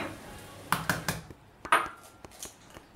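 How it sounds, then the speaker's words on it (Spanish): A metal frying pan clanks onto the stovetop for making vegetable tortillas. A few sharp, close knocks and rattles follow one another in quick succession, without talk. "Y mientras vamos a poner la sartén donde vamos a hacer las tortillas"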